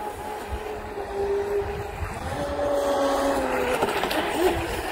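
Small RC mono hull boat running on water through a turn, its motor whine rising and shifting in pitch as the hull skips and slaps the surface, moderately close with a steady wash of water noise underneath.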